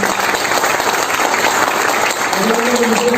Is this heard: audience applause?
yes